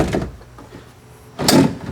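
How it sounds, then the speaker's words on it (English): A drawer box slides into a drawer module in a Jeep JKU Rubicon, with a soft scrape early on and a louder sliding thud near the end. "You want to make sure you slide it in parallel to the drawer box so that you don't damage the drawer guides."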